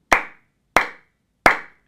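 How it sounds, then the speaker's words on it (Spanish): Hands clapping in a group rhythm game: three sharp, crisp claps, evenly spaced with clean silence between them, close and alone. "quienes tenían el pelo largo aplaudían dos veces"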